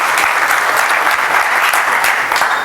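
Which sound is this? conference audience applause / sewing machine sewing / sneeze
conference audience applause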